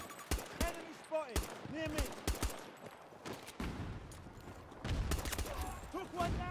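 MVK P125 handgun shots in the shooter Battlefield 2042, sharp separate cracks fired in quick uneven bursts alongside distant battle noise and faint game sounds.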